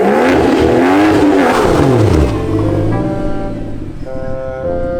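A single-turbo BMW 335i revving in a failed burnout attempt, loud rising and falling engine howls up close that settle into a lower idle-like drone.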